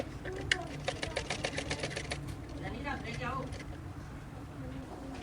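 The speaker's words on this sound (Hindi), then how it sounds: "इसी तरह पट्टी के भी अंदर सारी सिलाई लगा लूँगी।" A sewing machine stitches the neck strip of a kameez, its rapid rhythmic needle chatter running for about two seconds before slowing and stopping, with someone talking over it.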